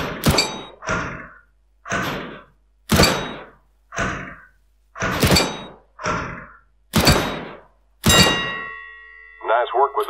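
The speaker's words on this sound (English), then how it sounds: "pick up the weapon and shoot 5 bad guys for me" Gunshots striking wooden targets in Counter-Strike: Global Offensive, about nine sharp evenly spaced thuds with short decays, close and loud, followed by a faint ringing chime.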